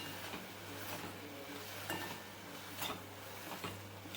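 Spoon stirring a pav bhaji masala and chilli filling in a pan for a street-food Franky, giving soft repeated scrapes and faint clinks close by over a steady hum, with no talking.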